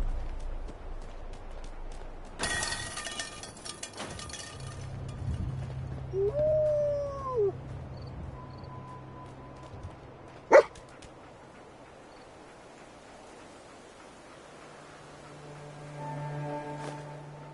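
A dog barks and whimpers sporadically amid Fallout 4 game sound effects, with a rising electronic chirp and a sharp metallic hit partway through.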